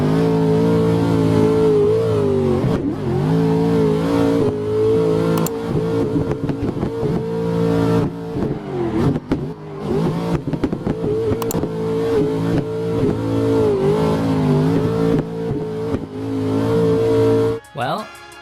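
Drifting car engine revving hard with spinning wheels, loud and sustained, with rising and falling pitch as the throttle is worked and a brief tire squeal near the end, under a voice talking.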